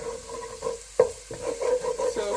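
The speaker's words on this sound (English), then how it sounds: "so fry it a little bit more" Rice frying in a pan is stirred with a soft sizzle underneath and a few sharp scrapes and knocks of the utensil against the pan, close and fairly quiet.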